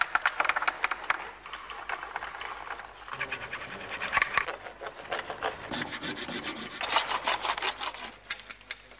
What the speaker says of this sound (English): the new cottage industry,